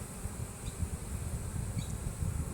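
Honeybees hum around an open hive during a beekeeping inspection, a dense continuous buzz close to the microphone with a few individual bees flitting past.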